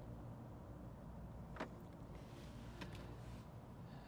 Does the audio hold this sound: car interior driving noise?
yes